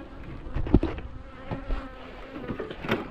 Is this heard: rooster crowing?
no